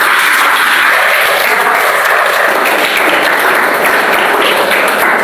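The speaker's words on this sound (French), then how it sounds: "Acclame pour toi-même." A church congregation applauds loudly and steadily throughout, a dense, continuous wash of clapping with no pauses, close and full.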